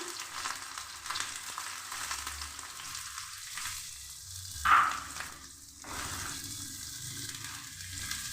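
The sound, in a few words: chopped onion frying in mustard oil in a pan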